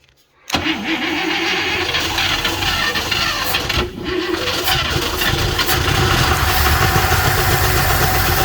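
Engine of a 1971 International Travelall 1210 firing up after sitting unused for 22 years: a sudden loud catch after brief quiet, then a steady, rough, close running roar that holds throughout.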